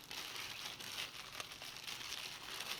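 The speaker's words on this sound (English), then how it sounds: "and then set it down into a plastic bag" Soft plastic crinkling as a wedding bouquet of flowers is lowered into a plastic bag, a quiet continuous rustle close by with no talk.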